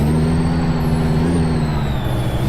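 A heavy Peterbilt 379 truck in Euro Truck Simulator 2 rumbles under braking, a loud, steady low engine and retarder drone with a thin whining tone above it, heard alone.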